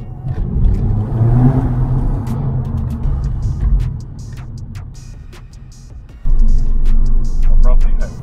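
A Mk5 Golf GTI accelerates through the gears, its engine rising and dropping in a low rumble with a shift midway and a louder surge near the end, under a person talking.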